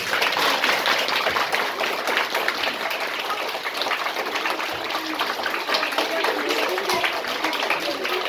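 An audience claps for the mothers at a primary school Mother's Day event, a dense, steady wash of applause that keeps going for the whole stretch without a break.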